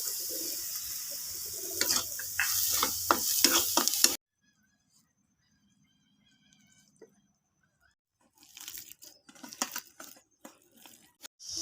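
Carrots fry in oil with turmeric and chili powder, a close, busy sizzle with stirring scrapes that cuts off into near silence before quieter stirring returns.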